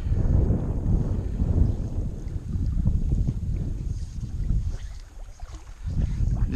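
Steady, rough wind buffeting the microphone outdoors on the water while fly fishing for bass, a continuous low roar with brief lulls.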